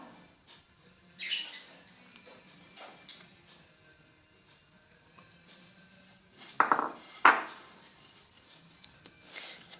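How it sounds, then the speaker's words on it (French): Sugar and butter are worked together in a bowl or kneader for a Moroccan chocolate-band cookie dough, giving scattered scraping and knocking bursts with a couple of louder clattery strokes amid quiet stretches, with no voices. "Dans un récipient ou bien à l'aide d'un pétrin, mélangez le sucre et du beurre jusqu'à ce qu'il soit sous forme de pommade."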